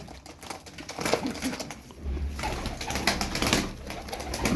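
Pigeons coo nearby in a flock of tumbler-type birds, low warbling calls mixed with rustling and wing movement at close range.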